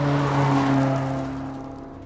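Car interior drive in an action film scene, a steady low engine drone with strong tonal hum that holds evenly, then eases slightly toward the end, with no voices.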